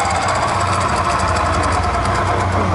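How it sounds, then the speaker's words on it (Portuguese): Steady mechanical whirring and rhythmic knocking from a spun rear wheel on a Honda PCX scooter with a wheel noise fault, continuous and close, with a low hum underneath and no talking. "Quando vou girar aqui a roda, você vê o barulho que tá fazendo."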